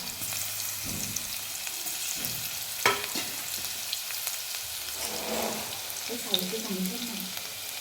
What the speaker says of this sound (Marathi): आता ह्याच्यामध्ये आपण हा ठेचलेला बारीक ठेचून घेतलेला लसूण घालूया